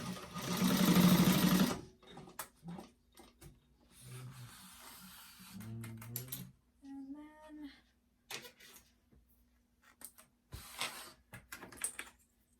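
A sewing machine stitches the bottom seam of a fabric bag, a loud steady whirring burst at first, then shorter runs and clicks of handling between pauses.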